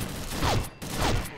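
Two gunshots from a shotgun-style weapon in a first-person shooter, each a loud burst followed by a mechanical reload clack, spaced about half a second apart with a brief gap between.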